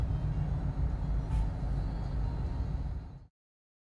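Steady low road rumble from inside a car crawling through a morning traffic jam on the way to university, a continuous engine and tyre drone that cuts off abruptly.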